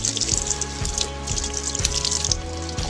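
Water running from a tap and splashing during ablution washing, a continuous close trickle with small irregular splashes and no talk.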